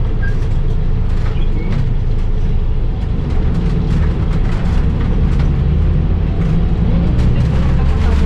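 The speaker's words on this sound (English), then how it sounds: "I did not expect this bus to be so creaky" A creaky mini-bus rides between Eastwood and Cubao, heard from inside as a loud, steady low engine and road rumble with rattling, continuous throughout.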